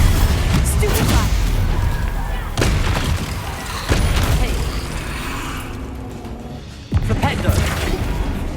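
Stupefy stunning spell cast in the video game Hogwarts Legacy during combat: sharp booming impacts burst out at intervals over a dense, loud wash of battle noise and effects.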